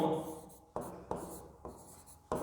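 Chalk or marker scratches across a board during a maths lesson in several short strokes, each starting abruptly and fading. The strokes are close and fairly soft, with no talking over them.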